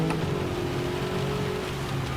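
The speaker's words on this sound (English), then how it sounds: "this is going to be a 7-lap race in the rain" Steady rain hiss during a Gran Turismo 7 race, a constant wash of noise with a low engine hum beneath it, even and unbroken throughout.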